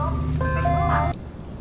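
An ice cream truck passes by, its tinkling chime melody ringing out clearly over a steady low engine rumble before cutting off, leaving only the idling hum.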